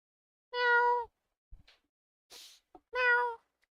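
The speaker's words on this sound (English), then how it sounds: "All I hear out there from the cat is just" A house cat meows twice, each call drawn out and fairly close, separated by a pause with small knocks and a short breathy rustle.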